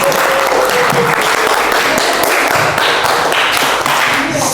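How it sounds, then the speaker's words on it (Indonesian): Sustained applause from an audience at a classroom teaching session, dense steady clapping filling the whole stretch, loud and close with a lively, even texture. "Mari kita berikan aplaus semuanya untuk teman-teman kita."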